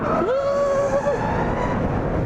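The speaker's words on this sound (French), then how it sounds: "Là t'as que le bruit du moteur électrique." A faint electric motor whine from a Zero SR/F electric motorcycle rises briefly in pitch and holds, over a steady rushing wind and road noise, with no talking.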